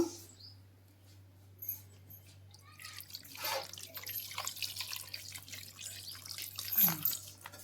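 Quiet at first, then water splashes and trickles steadily into a cooking pot of brinjals, close by, with a few drips and small clinks.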